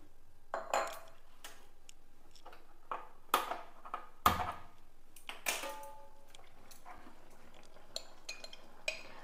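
While curry simmers, a metal pot and lid clink in a quiet kitchen. Scattered sharp clinks and taps come close together at first, then thin out into occasional light ticks.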